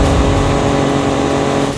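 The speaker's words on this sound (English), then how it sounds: "Foot is to the floor, 90 miles an hour, shift again, 6th gear, 95, 100 miles an hour" A 2017 Ford Raptor truck accelerating hard at full throttle at around 100 mph, its engine a loud, steady, sustained roar heard up close from inside the cab.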